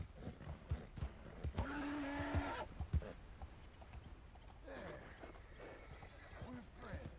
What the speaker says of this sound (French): J'ai réussi à débourrer le cheval.